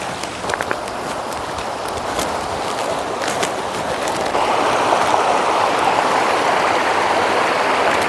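A river or creek flows near Cavinti, Laguna in the Philippines, giving a steady, fairly loud rushing wash that swells a little partway through, with a few faint clicks and no talking.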